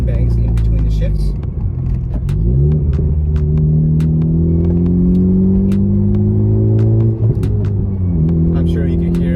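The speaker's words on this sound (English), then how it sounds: "This downpipe really produces a deep tone" Honda Civic Type R with an MA Performance cat downpipe accelerates hard, its deep exhaust note climbing through gears with short dips at the shifts, loud and close from inside the car.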